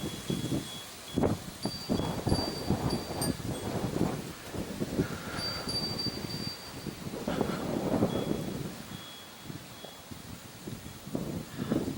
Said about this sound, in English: wind's coming straight from the west right now, though, so it comes right at the camera